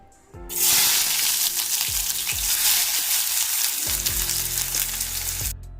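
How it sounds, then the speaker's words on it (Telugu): Onions hit hot oil in a pan for a dry fish curry, erupting into a loud, steady sizzle and crackle that holds close and continuous, with a few clinks of a utensil against the pan. "ఆన్ చేసి ప్యాన్ పెట్టి ఆయిల్ వేసుకుందాము ఆనియన్స్ వేసుకోవాలి ఇప్పుడు"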